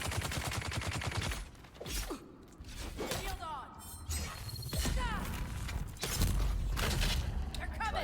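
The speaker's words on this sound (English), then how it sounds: "They can hit me with their guns." Enemies fire guns in the video game Dune: Awakening, producing rapid bursts of loud, close automatic fire with sharp metallic cracks that break off briefly and resume, while a voice speaks intermittently underneath.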